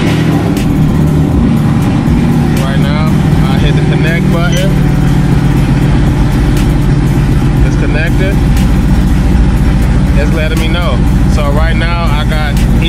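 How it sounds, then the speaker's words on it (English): A flex-fuel car running E85 ethanol hums and idles steadily throughout, loud and close, while a person talks over it. "You start the car."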